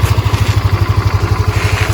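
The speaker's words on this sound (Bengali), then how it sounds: "এবার এই হচ্ছে ডেস্টিনির আওয়াজ তোমাদের শোনাচ্ছি, শোনো" A Hero Destini scooter engine idles close by, a steady rapid low putter that pulses evenly throughout with no speech.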